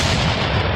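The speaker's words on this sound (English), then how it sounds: "So we'll go ahead and fire the cannons." Cannon fire sound effect played during a Buccaneers 2025 NFL schedule release broadcast: a loud, sustained booming blast that fills the whole moment, with no voices over it.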